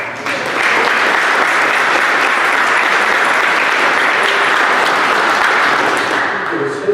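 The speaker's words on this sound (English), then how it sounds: "Everybody give Nathan a round of applause." Sustained, loud applause from an audience at a township special meeting, building quickly and holding dense and even for several seconds before tapering slightly at the end.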